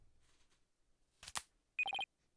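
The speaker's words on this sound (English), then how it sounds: "That's my phone going off." A phone ringtone from the video game Ace Attorney: Spirit of Justice: a short burst of four quick, bright electronic chirps, loud and clear, following a brief rustle of noise.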